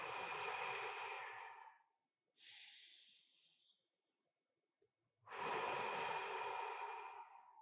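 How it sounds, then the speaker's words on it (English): Forceful breaths during a qigong breathing exercise, two long loud exhalations through the mouth with a shorter, softer breath between them, close and without talk. "Breathe out through the mouth."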